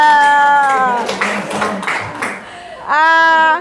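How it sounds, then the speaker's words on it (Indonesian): A classroom of students claps for a pupil who earned the top score, a short burst of scattered applause between stretches of a teacher's voice talking. "Tepuk tangan buat Andi, nilainya tertinggi."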